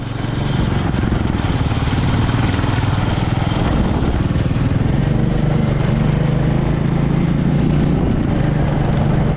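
Royal Enfield motorcycle engine running steadily up close, a deep continuous low thump with a rhythmic pulsing character, loud and unbroken with no talking.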